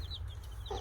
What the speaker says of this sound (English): We got some baby chickens.